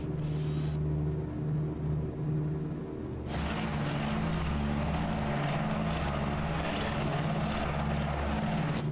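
Vintage light airplane climbing after takeoff, a steady loud propeller and engine drone with a strong low hum, brighter broadband roar building after a few seconds, heard from inside the cockpit without speech.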